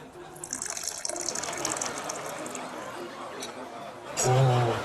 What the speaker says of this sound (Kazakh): Ой, өзіме де құйып қояйын.